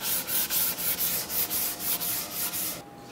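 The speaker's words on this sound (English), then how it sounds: "I'm gonna get to sanding." Sandpaper rubs back and forth over oily wood for a towel rack in quick, even strokes, about a dozen rhythmic passes close up before stopping abruptly.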